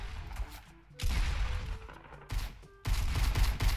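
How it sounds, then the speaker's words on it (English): Video-game gunfire in a Fortnite battle royale match, with bursts of automatic fire and scattered shots that stop and restart in loud, fairly close volleys over faint background game sound. "Why are you shooting me?"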